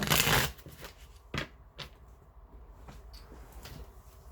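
Tarot cards being shuffled, a loud riffling burst at the start followed by a few sharper card snaps and soft handling rustles, close and alone with no talking.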